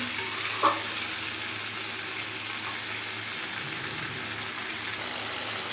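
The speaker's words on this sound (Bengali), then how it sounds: "মাংসটা আমি সুন্দর করে কষিয়ে নেব, একটু ঢাকা দিয়ে দেবো।" Meat sizzles and fries in hot oil in a pot, a continuous dense hiss that stays close and even, with a faint clink of stirring near the start and no voices.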